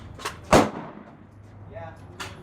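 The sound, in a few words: Smith & Wesson M&P 15 Sport II rifle shots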